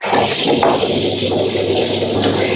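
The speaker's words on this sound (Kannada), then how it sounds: "ಎಷ್ಟು ನೀರ್ ಬೇಕು ಅಷ್ಟು ನೀರನ್ನು ನಾನು ಸೇರ್ಸ್ಕಂತೆ" Water poured into a wet grinder holding soaked urad dal, fenugreek seeds and coconut for methi idli batter, a steady close splashing rush that runs unbroken with no talk.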